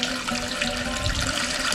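Water flows steadily at an ancient site in Israel, draining down under the ground beneath 3,000 years of built-up ruins; a continuous, broad rushing wash holds without pause through the whole short stretch.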